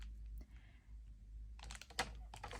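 Paper being trimmed for card making, a quiet lull followed by a short burst of crisp close cutting and slicing sounds, with no one talking.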